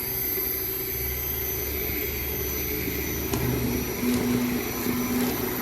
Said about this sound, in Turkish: Evet blenderdan geçirme zamanı.